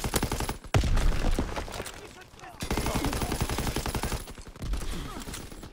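Heavy gunfire in a Call of Duty: WWII team deathmatch match, dense repeated shots and blasts filling the clip, with loud booming reports and brief gaps between volleys.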